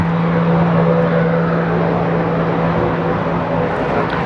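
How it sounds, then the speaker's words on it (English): A Cessna Caravan propeller plane cruises overhead near Ketchikan, Alaska, giving a loud, steady droning engine hum with a strong low tone that holds constant throughout, with no talking. "This Cessna is just, I think it's a Cessna Caravan. This plane coming up is just cruising."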